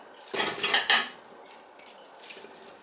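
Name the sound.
Brussels sprouts being put into a crockpot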